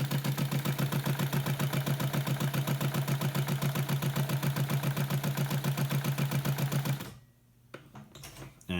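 A Titan TN-650 BL industrial sewing machine runs steadily while winding a bobbin, a loud, fast, even mechanical chatter with a low motor hum that holds for about seven seconds, then cuts off, leaving near quiet and a few faint clicks.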